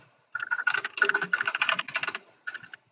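Rapid clattering of keys on a computer keyboard, a close-up flurry of typing strokes with a brief pause before a final few taps.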